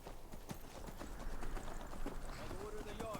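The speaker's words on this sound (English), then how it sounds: "Steal a horse. Run away." Horse hooves clatter in a fast, continuous clip-clop rhythm as a horse gallops in the video game Skyrim, moderately close and steady throughout.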